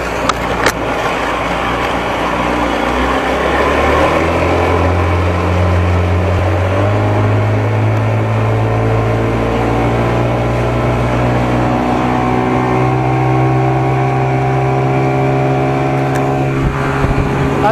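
A boat powered by a 55 hp Evinrude outboard motor runs steadily out on the water, its engine droning loud and close with the pitch climbing as it speeds up, then holding a strong, even whine through the run.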